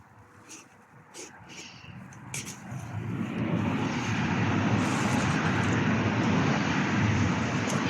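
Heavy Friday road traffic rushes past outdoors as a steady, loud roar that swells in after a few seconds and holds, with a voice talking faintly at the start.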